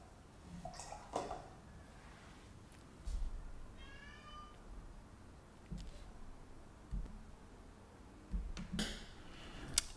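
A cat lets out a single short meow near the middle, set among soft clinks and brush-on-paper taps at a watercolor painting session, with no talking.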